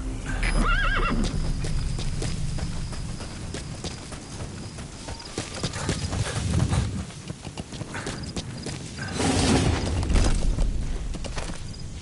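A horse in a PS4 video game whinnies and snorts as hooves clip-clop steadily, with rumbling movement and a louder burst of galloping near the end, no voices.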